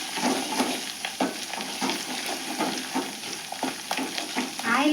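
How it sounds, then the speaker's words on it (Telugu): Fenugreek leaves fry in hot oil with a steady crackling sizzle, broken by repeated close scrapes and stirs of a spoon in the pan. "మెంతి కూర కొంచెం బాగా ఫ్రై అవ్వాలండి."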